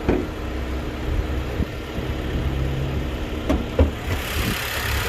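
A 2019 Nissan Qashqai ST engine idles with the bonnet open, a steady low rumble heard up close, with a few faint clicks and handling noises and no talking.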